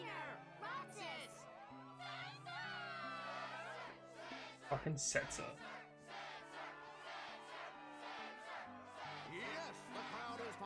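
Cheering crowd in the Kingdom Hearts 2 video game at a struggle championship, a steady game-audio roar of shouting fans mixed with talking voices, peaking briefly in a louder burst midway.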